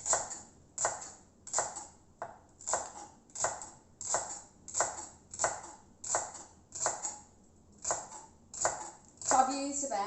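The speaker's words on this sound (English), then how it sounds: "And then we're going to grate the carrot." A carrot rubbed against a hand grater makes close, even rasping strokes repeating roughly every three-quarters of a second, a dozen or so in a steady rhythm, ending with a brief rattle, no voices.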